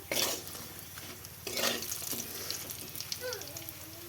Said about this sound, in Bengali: আর এখানে এই যে পাঁপড় ভাজছি